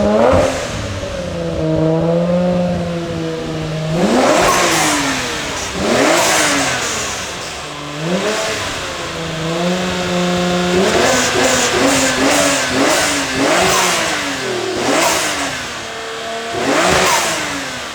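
Twin-turbo 1JZ engine in a Nissan Skyline revved repeatedly, rising and falling in several sharp bursts over a low idle, close and loud, without any talking.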